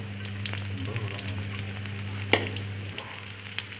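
Salted fish frying in a small amount of oil over low heat, a quiet steady sizzle with occasional light pops and one sharp clink, close and faint, with a low hum underneath.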